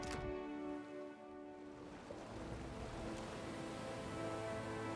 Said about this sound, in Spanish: Las olas golpean los lados del esquife, son los únicos sonidos aparte de algún resoplido de esfuerzo mientras remáis sigilosamente hacia la orilla